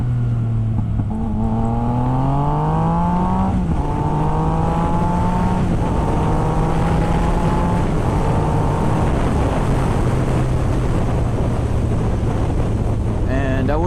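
A 2016 Yamaha FZ-09/MT-09 motorcycle engine revs up through several gears at partial throttle, its pitch climbing and dropping at each shift, close and loud over steady wind buffeting.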